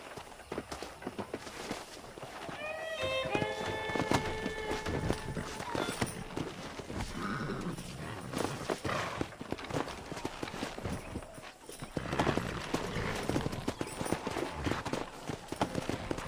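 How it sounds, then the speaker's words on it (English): Hooves clip-clop steadily as horses move along in Red Dead Redemption, mixed with game music and ambient effects, with brief speech-like voices in the background. "let's see if we can't wrangle some horses"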